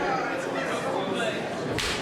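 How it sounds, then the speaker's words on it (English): Slap strikes landing in a wrestling match, a sharp crack near the end over steady crowd noise and commentary. "You can hear the sound of these strikes."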